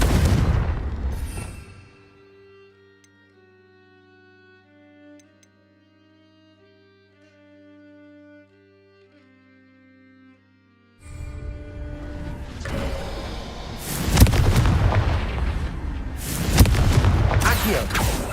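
Confringo explosive spell blasts in a Harry Potter video game: a loud burst at the start, a quiet stretch with faint tonal game music, then a dense run of booming blasts and crackling impacts filling the last seconds.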